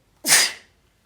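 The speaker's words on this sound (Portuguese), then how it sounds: "Quando eu pego no nariz, eu espirro." A single close, loud human sneeze, one sharp burst that fades quickly, with nothing else around it.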